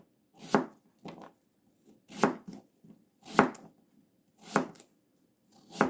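A knife chops Korean radish on a cutting board for Gyeongsang-style beef radish soup, about six sharp, evenly spaced thuds, close and alone.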